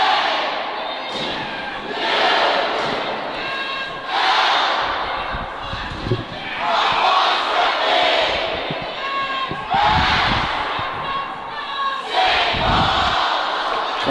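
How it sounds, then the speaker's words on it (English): Crowd at a school ice hockey game between St. Paul's School and Phillips Andover, a loud, sustained roar of cheering and chanting voices in waves, with occasional thuds and bangs from the rink beneath. "Crowd getting behind their team."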